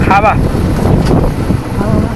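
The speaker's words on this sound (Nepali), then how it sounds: "खावामा मिठो हावा खाँदैछौँ" Gusty wind buffeting the microphone in a loud, steady rush, with a brief voice at the start and another near the end.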